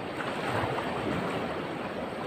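Large ocean waves breaking on a rocky shore at Linapacan, where ultralight fishing happens after the amihan monsoon. A steady, loud rush of surf fills the whole stretch, with wind noise mixed in and no talking.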